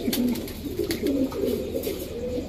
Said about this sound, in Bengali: দেখেন সাপচিলা একটা নর কবুতর